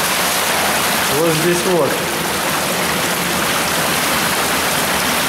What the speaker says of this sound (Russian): течет дренажная канализация района, которая как раз идет от того водопада